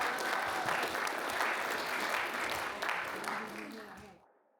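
Audience applause at a convention voice-acting rodeo in Norman, Oklahoma, a dense burst of clapping from a crowd lasting about four seconds before fading out quickly.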